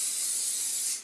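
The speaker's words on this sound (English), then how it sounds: "I have canned cooking spray. This is butter flavored" A short, steady hiss of butter-flavored canned cooking spray misted onto breaded chicken, close and even, tapering off at the end with no talking.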